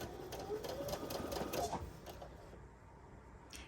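A sewing machine runs steadily with a quarter-inch seam foot while piecing quilt blocks, a soft, fairly faint rapid mechanical whir of stitching that slows and fades near the end.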